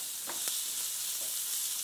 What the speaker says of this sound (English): Get a little sizzle going there.